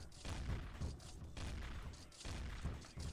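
Rapid gunfire in D.I.R.T.: Origin of the Species as alien eggs are shot, a dense volley of booming blasts repeating in quick bursts, steady and close, with no voices.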